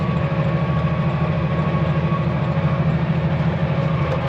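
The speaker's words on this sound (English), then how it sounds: "you'll hear the engine groan come down. You know it's working hard." A heavy tractor engine drones steadily with a low, labouring throb and a constant rattling hum while working rough ground making seed beds, close by and without talk.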